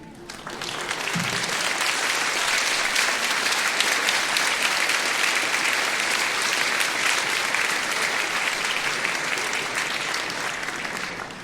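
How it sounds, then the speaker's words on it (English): A community band concert audience gives a warm, sustained round of applause for first-time attendees, dense and steady with many hands clapping at once, building quickly and holding strong for several seconds before tapering. "give you a nice warm round of applause"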